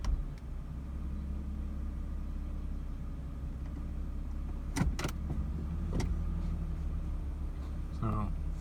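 A Nissan 350Z with a low-idle problem settles into a deep, steady idle rumble heard from inside the car, with a few sharp clicks and clunks near the end and talk over it.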